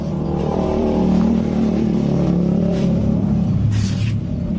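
A Yamaha Nmax scooter engine with a fault idles roughly and revs unevenly, a loud close rumble with surging, stumbling bursts that falter as the revs rise.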